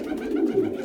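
Pigeons in a dovecote coo with a low, steady warbling murmur, close and continuous with no voices over it.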